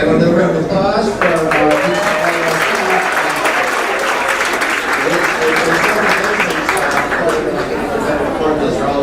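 Banquet guests at a team awards dinner break into a full round of applause. The clapping swells after a voice opens the clip and then holds steady and dense throughout.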